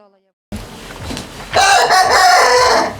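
Hens cluck close by, then a rooster crows loudly over the flock, with more clucking continuing behind it.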